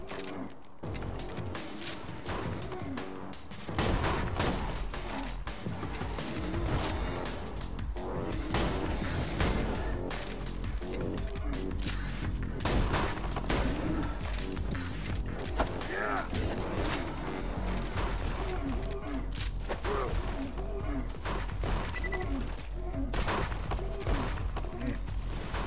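Video game gunfire in Borderlands 2 rattles steadily as the player shoots at incoming projectiles, dense, loud and continuous bursts mixed with mechanical clatter and impacts throughout.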